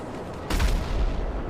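A missile explosion from the Deluxo vehicle in a video game goes off as a single muffled boom after a low rumbling lead-in, followed by a dull lingering roar.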